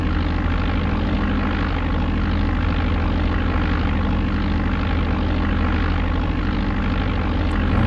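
A Cessna's propeller engine drones loud and steady at full power during takeoff roll in Flight Simulator 95, a continuous close hum with strong low throb and no pauses.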